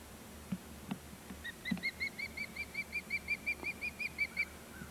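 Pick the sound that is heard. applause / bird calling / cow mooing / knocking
bird calling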